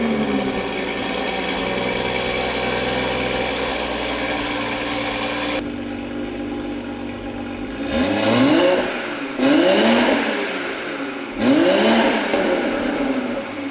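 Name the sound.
2021 Toyota Supra engine starting and revving with catless downpipe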